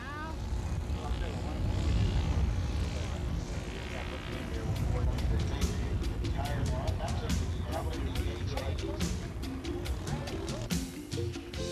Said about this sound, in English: sets up for his landing and really pulls a grease job as he turns into the wind and lands on